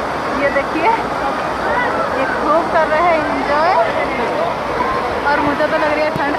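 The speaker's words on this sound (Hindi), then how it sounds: "क्योंकि पानी की आवाज़ बहुत ज़्यादा है।" Loud, steady rushing water fills the whole stretch outdoors in the cold, with someone talking over the constant roar.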